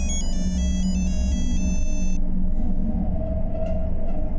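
An electronic phone ringtone chirps in a repeating melodic pattern for about two seconds over a low rumbling background, then stops, leaving the rumble alone.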